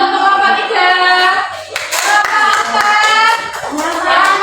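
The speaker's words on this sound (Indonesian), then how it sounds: "Tepuk tangan untuk nomor 3." Children clap their hands in a classroom during an Indonesian grade 5 lesson, a steady sustained burst of applause lasting several seconds with voices in the background.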